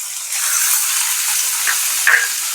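Crushed ginger and green chilli fry in hot oil, a steady close sizzle with a brief stir and a louder spit near the end, no talking.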